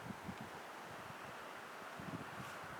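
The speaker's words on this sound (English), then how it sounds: "Man, it's cold up here. The wind is chilly." Cold wind on the road up to Independence Pass in Colorado buffets the microphone with a steady, fairly loud rush and low rumbling gusts that flutter throughout, with no voices.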